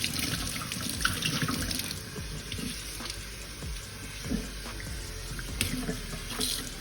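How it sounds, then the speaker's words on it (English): Warm to hot water runs steadily from a sink tap into a basin for washing a headband wig, a continuous close splashing rush with no voices. "I'm going to have it on like warm to hot water."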